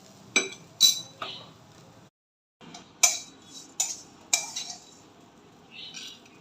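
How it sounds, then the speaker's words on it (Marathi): A spoon scrapes and clinks against a pan as a flatbread-pieces snack garnished with coriander is served onto a plate, giving several sharp metallic knocks and clatters separated by short pauses, with a brief silence partway. "गॅस बंद करून सर्विंग प्लेटमध्ये काढून घेऊया"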